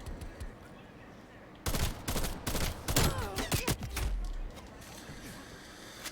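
Rapid nail gun fire in Call of Duty Cold War, dense bursts of sharp mechanical shots packed together over game sounds, medium loud with brief gaps.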